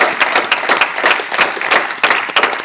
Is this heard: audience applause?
yes